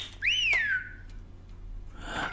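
A single sharp herding whistle in a sheep-herding video game swoops up and then glides down, loud and close, over a low steady game background hum.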